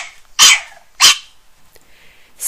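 A puppy in a park gives two loud, close, sharp barks about half a second apart, then the start of a third at the end, with quiet between.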